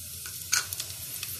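Cumin seeds hiss and sizzle in four to five spoonfuls of hot oil for a kadhi pakora tadka, a soft, steady frying crackle with a few sharper pops, close and quiet, with no talking.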